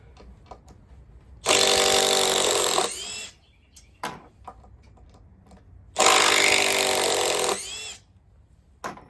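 A Makita drill driver runs at full power in two loud, sustained whirring bursts of about one and a half seconds each, separated by quieter clicks and handling noises.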